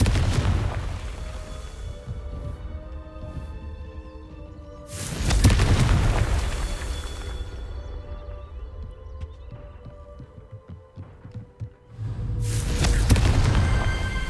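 Confringo spell blasts in the video game Hogwarts Legacy, three loud booming explosions with rumbling decays, spaced apart over music-like tonal background.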